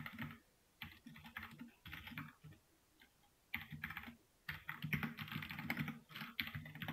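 Keys clatter on a computer keyboard as Java code is written, fast bursts of typing separated by short pauses, close and moderately quiet, with no voices.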